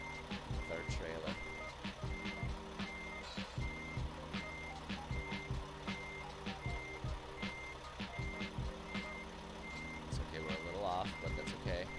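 Steady, evenly spaced reversing beeps from a truck backing up with a trailer in American Truck Simulator, repeating throughout over a constant engine drone.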